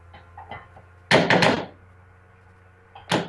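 Fresh pumpkin puree is dumped into a bowl in a few soft, heavy thuds and plops, a close cluster of dull impacts followed by one more thump, with quiet moments between.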